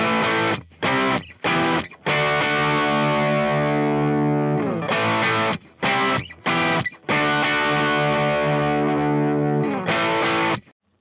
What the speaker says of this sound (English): now we're going to go to the Les Paul. I'll solo it out and we'll hear what it sounds like.